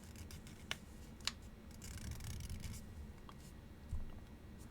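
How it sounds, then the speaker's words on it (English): Paper is folded diagonally into a triangle for a flower pop-up card, heard as soft close rustling and creasing with a few sharp crinkles, no talk. "Fold it diagonally so that it forms a triangle."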